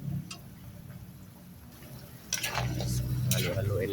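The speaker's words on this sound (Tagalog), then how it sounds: "Halo-haloin lang natin para" A spoon stirs fried cassava into simmering beef kaldereta in a pot, giving soft scraping and a few sharp clinks against the metal, with a steady low bubbling underneath.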